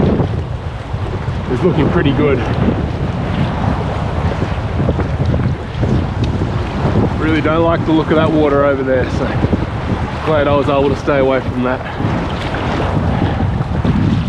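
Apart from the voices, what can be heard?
strong wind while packrafting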